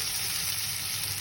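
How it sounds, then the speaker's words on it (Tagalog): Steady oil sizzle from frying in virgin coconut oil in a pan, a constant hiss with no talking, close and moderately loud. "gagamit ako ng virgin coconut oil pang prito"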